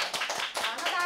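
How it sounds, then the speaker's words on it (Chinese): A small group claps in thanks to a grandmother after a meal on a family variety show, a brief burst of scattered applause with voices speaking over it. "那我们就鼓掌"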